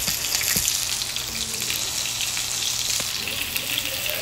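Rohu fish pieces frying in hot oil, a steady close sizzle with bubbling crackle running throughout, with no talking.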